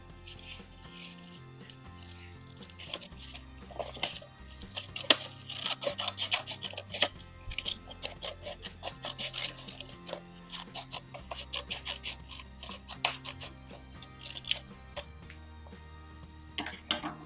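Scissors snipping through paper while cutting out a piece for a Halloween paper pumpkin craft, with repeated close, crisp rasping cuts over faint background music.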